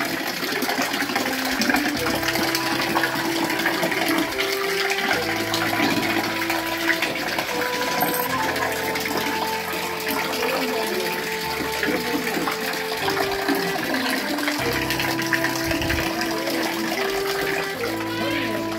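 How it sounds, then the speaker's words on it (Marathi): Hot spring water pours without pause into the stone tank of the Unkeshwar Shiva temple, a loud continuous gushing splash with faint voices and tonal background music mixed in. "कंटिन्यू गरम पाणी इथे पडत असतं"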